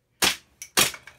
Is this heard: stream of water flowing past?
no